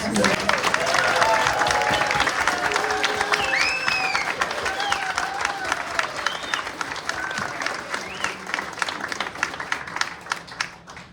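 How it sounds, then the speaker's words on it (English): Sustained audience applause at an opening reception for an art exhibition and artist talk, dense and steady throughout with a few cheers and whoops rising above the clapping. "How about another round of applause?"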